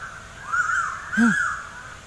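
A crow caws out in a rural field during an outdoor barbecue, two hoarse calls under a half-second apart, moderately close over a soft windy background.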